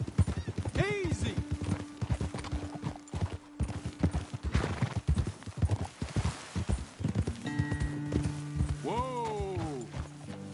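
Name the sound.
horses trotting, clip-clop, in video game Red Dead Redemption 2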